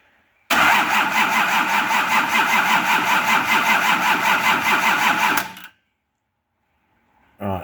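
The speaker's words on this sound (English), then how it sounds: "that is sounding like a really healthy crank" A Nissan LD28 diesel engine cranks on a repaired starter motor, a steady rapid rhythmic churning that runs loud and close for about five seconds, then cuts off into silence.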